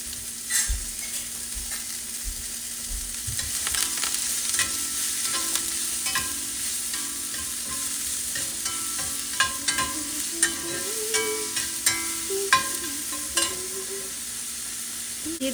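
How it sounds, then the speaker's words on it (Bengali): Food sautés in a pan over a medium-high flame with a steady hiss and sizzle, broken by repeated close scrapes and taps of a utensil stirring, and without talk. "জাস্ট একটু মিডিয়াম থেকে হাই ফ্লেভে আমি জিনিসটাকে হালকা সতে করব"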